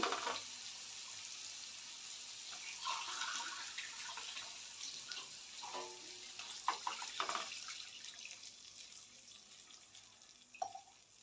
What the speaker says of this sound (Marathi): आता ह्यामध्ये एक ग्लास पाणी घालते